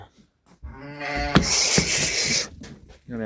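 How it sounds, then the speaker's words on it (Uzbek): Sheep and lambs bleat in a livestock pen, one long wavering bleat close by followed by a shorter call, with quiet farm surroundings around them. "Bu yerda barra qo'zlar."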